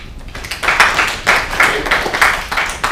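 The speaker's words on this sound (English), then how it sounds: "Please join me in welcoming Anand." A conference audience claps in welcome for a speaker, a steady burst of applause with dense, overlapping hand claps that swell and pulse for a few seconds at close, fairly loud level.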